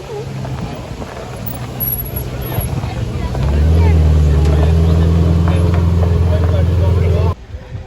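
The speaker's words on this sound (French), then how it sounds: "Il y a une 458 qui arrive." A Ferrari 458 supercar drives up among other cars on a Toulouse street, its engine building from a low rumble into a loud, steady drone that holds close by for several seconds before cutting off, with passing traffic around it.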